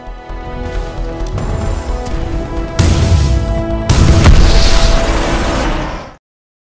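Enemy Titans exploding in Titanfall 2: two loud, close blasts follow each other within about a second, over a dense rumble of mechanical combat noise that cuts off abruptly.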